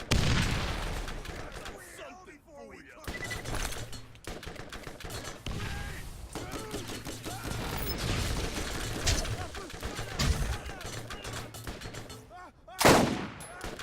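Video game gunfire from Borderlands crackles in repeated shots and short bursts, with booming impacts and a loud blast near the end, under intermittent talk.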